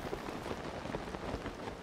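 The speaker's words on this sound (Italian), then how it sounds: "Anche perché sta piovendo." Steady rain pattering in Zelda: Tears of the Kingdom, a dense continuous hiss of drops falling on surfaces, even and unbroken throughout with no voices.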